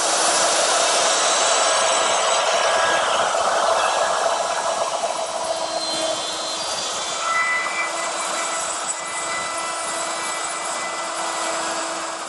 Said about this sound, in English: I'm using my router, which is set up with a dovetailing bit, and this little collar right here follows the jig.